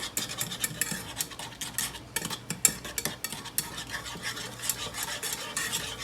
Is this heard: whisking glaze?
yes